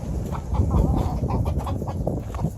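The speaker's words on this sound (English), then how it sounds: "let's go take a look at the chickens" Chickens cluck in a backyard coop, a dense, continuous flock chatter of overlapping short calls held at a steady close level throughout, with no talking.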